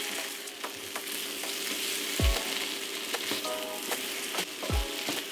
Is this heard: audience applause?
no